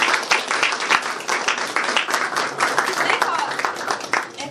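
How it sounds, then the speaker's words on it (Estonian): Applause at an 80th birthday celebration in a photo cellar gallery, a dense patter of many hands clapping at close range for several seconds, with voices mixed in, fading slightly near the end. "Aplaus!"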